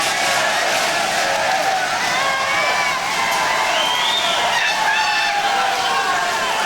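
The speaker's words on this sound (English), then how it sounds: "Big crowd" Partisan crowd noise at an MMA fight (FCC 26), a steady roar of cheering and whoops filling the arena with a few rising shouts standing out.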